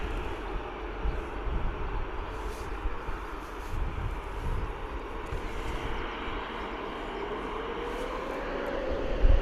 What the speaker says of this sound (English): We're probably going to get another bit of a fluffage show from this next A320